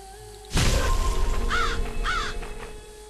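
Crows caw in the video game BloodLust Vampire Shadow Hunter: a sudden burst of noise, then two distinct harsh caws over a low ambient hum.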